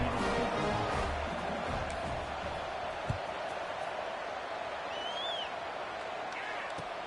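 A stadium crowd in EA Sports College Football 26 sends up a steady, broad roar of cheering that holds throughout, with a faint thump partway through and a commentator talking over it.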